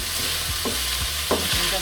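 Meatballs browning in a frying pan give a steady close sizzle, punctuated by a few soft scraping stirs.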